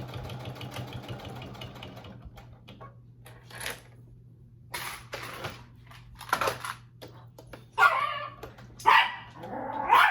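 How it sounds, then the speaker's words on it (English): A pet dog barks in a home sewing room where a wallet is being made on a domestic sewing machine, with several loud, sharp barks in irregular bursts over a steady low machine-like hum. "I do apologize that my dog is barking."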